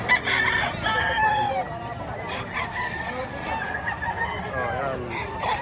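A rooster crows at a busy chicken market in Batangas where fighting cocks and stags are sold, its harmonic calls rising over constant crowd chatter and other nearby fowl sounds.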